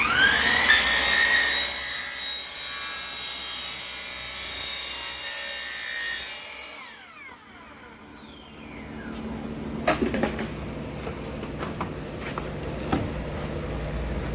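A hand saw rasps back and forth through a vinyl gate piece, steady close strokes for several seconds before the cut ends, followed by a few light knocks and handling sounds.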